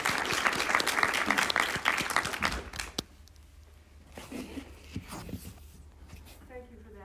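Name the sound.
audience applause welcoming the speaker Nancy Stein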